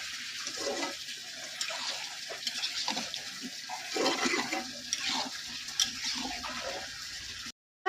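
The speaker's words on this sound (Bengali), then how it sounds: "এবার আমি পরিমাণ মতো জল দেব" Water is poured into a cooking pot of vegetable shukto, a steady gushing rush that lasts about seven seconds before cutting off abruptly, with no voices.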